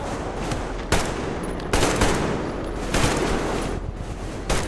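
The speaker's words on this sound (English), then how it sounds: "Covering fire for the Colonel! No saving ammo!" Automatic gunfire in the video game Metro Exodus, sustained bursts of rapid shots in several loud volleys with short gaps between them, dense and close over a faint background.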